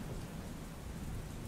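Steady rain falls in a dense, even wash with a low rumble beneath it, loud and continuous with no voices.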